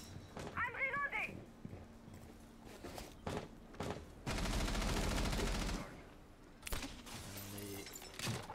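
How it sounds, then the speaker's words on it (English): Gunfire in Rainbow Six Siege, heard as scattered single shots and then one long, dense automatic burst in the middle, under a caster's commentary in a spectator view of a community match. "five shooting a lot of bullets but none landing"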